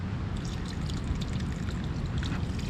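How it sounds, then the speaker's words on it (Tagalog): Water pours steadily into a land crab trap outdoors, a continuous splashing, trickling flow held at an even level for the whole stretch. "Lagyan ulit natin ng tubig."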